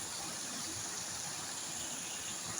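A clear, cold flowing stream in rainy weather gives a faint, steady rushing and trickling wash, continuous and even, with no voices over it.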